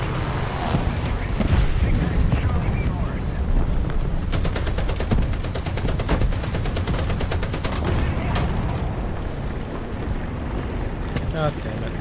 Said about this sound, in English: Artillery is coming in.